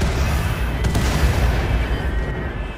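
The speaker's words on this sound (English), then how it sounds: "You are going to be firing high explosive shells, and same with you." High explosive shells hitting mechs in the video game RimWorld, heard as a dense run of heavy, rumbling booms and blasts that roll together loudly with no clear gaps.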